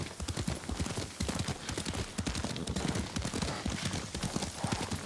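Horse hooves clip-clopping at a brisk, steady rhythm while riding in the video game Ghost of Tsushima, close and continuous throughout with no talking over them.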